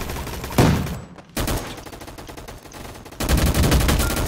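Gunfire in a Roblox first-person shooter, including a shotgun, comes as loud, rapid bursts of shots separated by brief pauses, with a heavy final volley.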